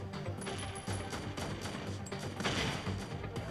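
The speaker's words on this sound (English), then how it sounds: "everyone is just shooting me like hell" Gunfire in the video game WarFriend's Warpath mode, repeated sharp shots in quick irregular bursts, fairly loud over a busy, rumbling battle backdrop.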